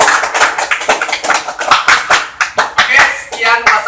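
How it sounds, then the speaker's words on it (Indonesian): Audience clapping at the close of a debate event, loud and near, a brisk run of individual hand claps from a small group, uneven in rhythm, with a voice briefly over it. "Marilah kita tepuk tangan atas acara hari ini."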